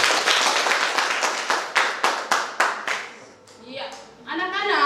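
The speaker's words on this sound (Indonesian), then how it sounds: "Kita tepuk tangan dulu." Students clapping their hands together in a classroom, a brisk run of about a dozen sharp, evenly spaced claps that fade out, followed by a short burst of voices.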